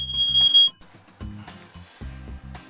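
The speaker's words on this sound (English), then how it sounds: "I've just set the fire alarm off for the 2nd time while making this." A smoke alarm's high steady beep sounds during cooking, cutting off after about half a second. Kitchen clatter and sizzling of pan-fried portobello mushrooms follow in short bursts.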